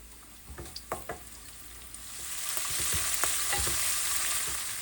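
Garlic and pancetta sizzle in a hot pan, starting with a few crisp clatters and crackles as they go in, then settling into a rising, steady hiss close by.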